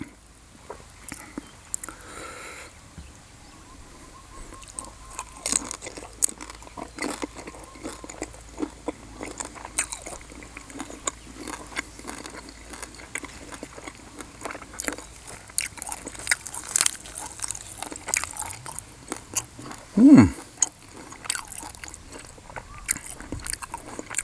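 Close-up biting and chewing of crispy roast suckling pig skin, with repeated crunchy bites and wet mastication spread over a long stretch and one louder crunch near the end.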